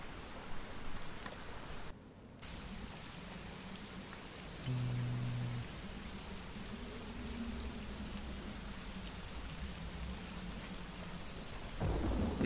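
Steady heavy rain hisses throughout a scene in the adventure game Secret Files Tunguska, with low rumbling thunder swelling in the middle and a brief dropout early on; no one speaks.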